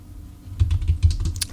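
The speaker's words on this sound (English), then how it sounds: "so if you're hearing me typing" Computer keyboard typing, a quick burst of several close, soft key clicks following a brief quiet lead-in.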